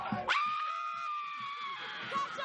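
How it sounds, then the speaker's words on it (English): Several people on a studio talk show let out one long, sustained scream together, loud and close, after a brief burst of sound at the start. "Let's scream. Ready? 1, 2, 3."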